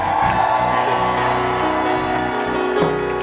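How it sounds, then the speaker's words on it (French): A church congregation at a worship service erupting in loud, sustained shouts and cries of joy, a dense crowd roar with whoops throughout. "Poussons vers lui les cris de joie une dernière fois."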